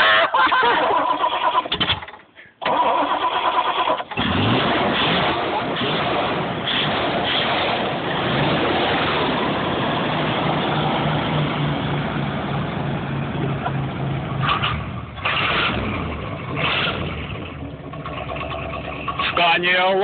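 A 1979 Ford Thunderbird engine cranks, catches and settles into a loud, rough idle with revving swells, recorded close up while people talk over it.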